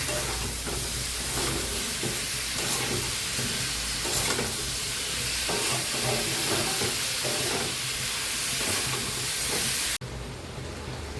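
Spices and vegetables are sautéed in a pan for a katla fish curry (macher jhol), giving a steady, close sizzle with stirring scrapes throughout that cuts off abruptly near the end.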